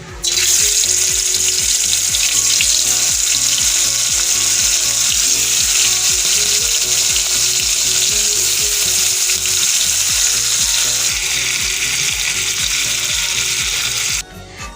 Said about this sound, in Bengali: কড়াতে আমার তেল গরম হয়ে গেছে এবার আমি চিংড়ি মাছগুলোকে ভেজে নেবো